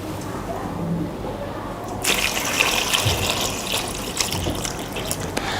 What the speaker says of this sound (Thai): แล้วก็เทน้ำใส่ลงไปในกะละมังเลยค่ะ